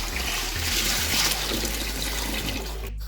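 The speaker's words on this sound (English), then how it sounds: "Now we wash the beans." Beans being washed in water, with loud, continuous sloshing and splashing close by and a steady low rumble beneath, cut off abruptly at the end.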